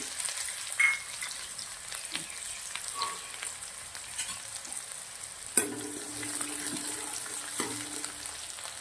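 Peppercorns, cloves, cardamom, cinnamon, cumin, onion and chillies fry in a pan for a spicy toor dal dish, a soft steady sizzle with scattered clinks and one sharp knock midway.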